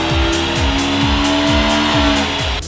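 Naturally aspirated car engine on a dynamometer with its factory airbox, revving hard in repeated rising sweeps through the gears, loud and close with a steady high whine, no talk.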